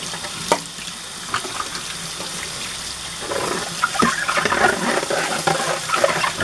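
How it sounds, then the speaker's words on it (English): Running water rinses out a burnt pressure cooker pot at a sink, a steady near splashing stream that grows louder and more turbulent midway, with occasional clinks against the metal. "let me rinse this out really quick so before the other stuff dried up"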